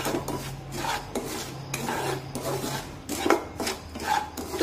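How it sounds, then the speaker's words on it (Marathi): Semolina roasting in ghee in a pan while being stirred, giving a close, soft rhythmic scraping and rasping of the spoon against the pan, repeated in short strokes. "तर आणखीन 1 मिनिट मी हा रवा छानपैकी भाजून घेते।"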